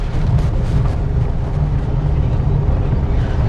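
A car drives over speed breakers without slowing, giving a steady loud low road rumble. Faint bumps and thuds show through the rumble.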